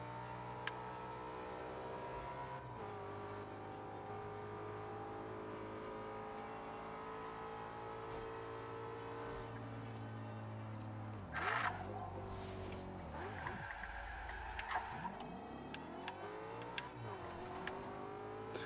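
An Audi RS5 Coupe's engine drones and revs in the Forza Horizon 2 racing game on Xbox One, holding a steady tone before rising and dropping sharply as it shifts, with faint tire noise.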